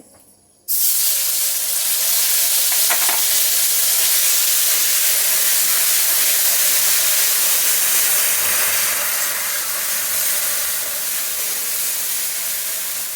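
A paste of ginger, green chilli, cumin and coriander drops into hot oil with a sudden loud hiss, then keeps up a strong, close, steady sizzle that fades slightly toward the end, with no talking.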